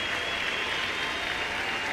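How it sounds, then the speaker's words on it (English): A large stadium crowd at an LSU versus Auburn college baseball game gives a standing ovation as the pitcher walks off, in a continuous wash of dense, even clapping with no break. "a standing ovation for Poche as this senior walks to the LSU dugout"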